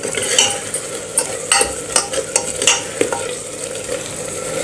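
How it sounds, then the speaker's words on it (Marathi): Spoon stirring sambar masala and chilli in a hot pan, a run of close scraping strokes at a quick, uneven rhythm over a light sizzle, with no talking. "आता आपण यामध्ये सांबर मसाला घालून घेऊया हे थोडंसं मिक्स करून घेऊया"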